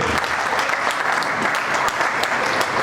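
A crowd at an award ceremony claps continuously, a steady wash of hand claps filling the whole moment without pause.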